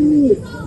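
A racing pigeon gives a single short, low coo, close and clear, then the sound falls quiet.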